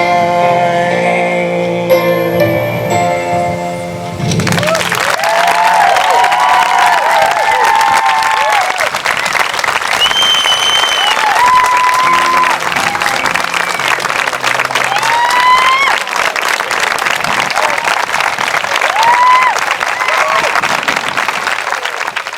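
After a brief stretch of fading music, an audience at a September 11 tribute in Holyoke breaks into loud, sustained applause with scattered cheers and whistles rising above the clapping, continuing strongly to the end.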